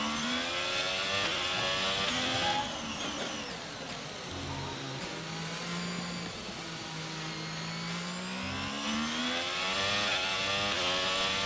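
Several Alfa Romeo race cars in a racing video game launch off the grid together, engines revving hard and rising in pitch before settling into a steady, continuous drone.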